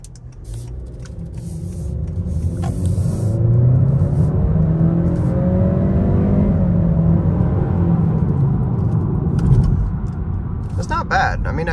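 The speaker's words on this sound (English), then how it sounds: "I'll put it into sport mode first and give you guys kind of a little rip here." A small turbocharged car in sport mode accelerates hard from inside the cabin, its engine rumble climbing and holding strong for several seconds before easing off, with a voice talking at the start and end.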